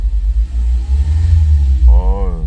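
A fourth-generation Mazda MX-5 Miata roadster with its stock exhaust idles with a loud, close, steady low rumble, and a voice talks over it near the end.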